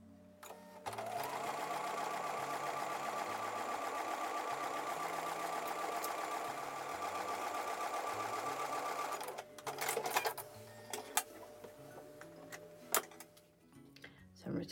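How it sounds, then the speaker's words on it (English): A sewing machine stitches fabric steadily for several seconds with a fast, even mechanical whir, then stops, leaving scattered clicks and handling sounds. "I'm going to take that over to the sewing machine and sew it"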